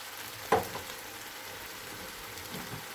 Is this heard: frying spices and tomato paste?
yes